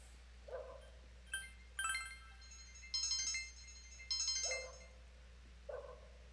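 Inside the Persona 4 video game, a phone rings with bright chiming tones in several short bursts. Softer low blips fall between them over a quiet, steady hum.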